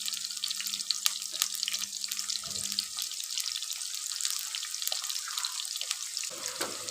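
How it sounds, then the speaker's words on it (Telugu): Large pieces of onion fry in a generous amount of oil, giving a continuous crackling sizzle with scattered sharp pops, moderately loud and close, with no one speaking. "ఇట్లా పెద్దగా తరుక్కున్న ఉల్లిగడ్డలు మంచి ఇట్లా ఫ్రై చేస్తూ ఉండాలి"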